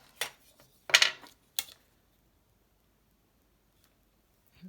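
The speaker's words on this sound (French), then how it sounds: "Donc là, je vais couper" Scissors snip paper for a junk journal tag: a few short, sharp cuts in quick succession, close and crisp against a quiet room, then silence.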